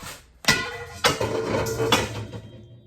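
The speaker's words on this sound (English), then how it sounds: "That's a bowl hitting the sink." A bowl clatters against a kitchen sink in three sharp ringing knocks, each with a short metallic decay, close and loud with no talking.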